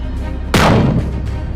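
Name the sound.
explosions from loitering munitions and Iskander missiles hitting a camp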